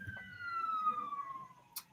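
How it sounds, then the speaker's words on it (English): A police car siren passes outside, a faint single falling wail sliding steadily downward, distant and thin over a quiet room. "that was a police car driving by"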